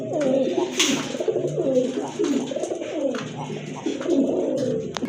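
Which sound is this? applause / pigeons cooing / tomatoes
pigeons cooing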